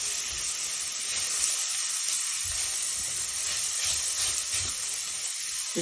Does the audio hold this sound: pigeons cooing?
no